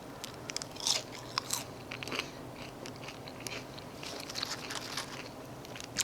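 Burger King french fries being bitten and chewed close to the mic, a series of soft crisp crunches and moist chewing at an irregular pace, with no talk.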